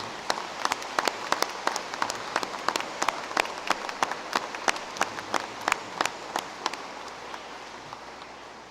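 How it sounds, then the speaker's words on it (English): Sparse, scattered clapping from a commencement audience honoring the class of 1968, individual claps standing out distinctly rather than merging into a roar, holding steady for several seconds before thinning out. "one more round of applause for the class of 1968"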